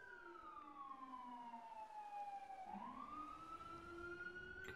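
A police siren wails in the GTA 5 FiveM game, its tone sweeping slowly down and then rising again, fairly faint and distant over a low background rumble.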